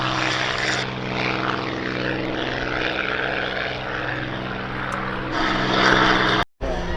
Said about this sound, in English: And in the Spitfire PR11 gets airborne, our final item of the day.